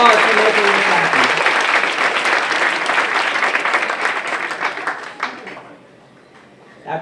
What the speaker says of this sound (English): give them a big round of applause for making this happen.